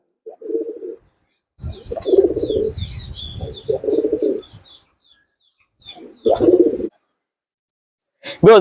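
Soft, low coos from highflying pigeons in a loft come in short bursts separated by pauses, with a few faint chirps above and a brief sharper call at the end.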